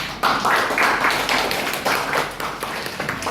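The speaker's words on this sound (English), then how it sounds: "give applause for" A classroom audience claps after a student's presentation, with steady, dense applause filling about three seconds.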